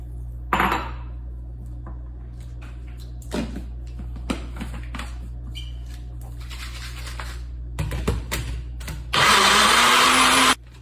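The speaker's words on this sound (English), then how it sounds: "And then we're gonna blend." A blender whirs through a spicy peanut butter dressing thinned with a little water, starting as a sudden loud, steady roar near the end after quiet kitchen clatter.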